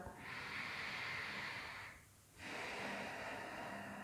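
A slow, deep breath drawn during a morning yoga stretch, a steady airy hiss that runs for about two seconds, pauses briefly, then resumes for another long exhale, close and fairly soft.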